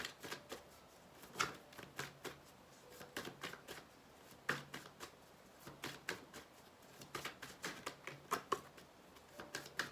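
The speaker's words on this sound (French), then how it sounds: "surtout que là je les mélange." Tarot cards being shuffled by hand, a close, quiet series of irregular papery riffles and slaps in quick bursts, with no talking.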